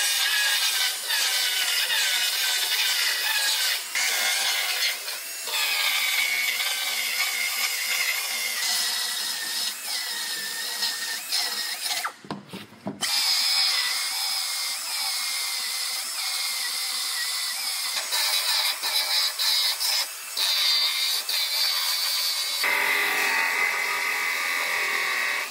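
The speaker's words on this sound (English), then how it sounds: "So I'm gonna go ahead and start cutting this outer panel off." A power tool cuts through an aluminum outer car body panel with a loud, continuous harsh buzzing grind that varies slightly in pitch, broken by one brief pause midway.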